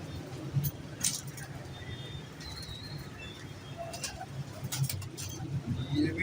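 Star pigeons kept by a hobby breeder coo softly and intermittently, mixed with faint clinks and background rustle close by.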